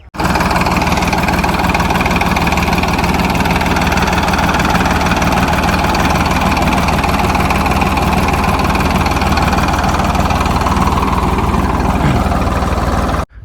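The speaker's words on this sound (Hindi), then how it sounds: "ट्रैक्टर की जुताई एक नंबर की चल रही है बिल्कुल अब नए ट्रैक्टर से।" A new tractor's engine runs steadily while ploughing a farm field, a loud, continuous diesel drone with constant vibration and no pauses, close to the listener throughout.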